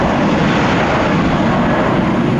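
JetBlue and Delta jet airliners at Tampa airport, heard as a steady, loud broadband engine roar that holds evenly throughout with no voices.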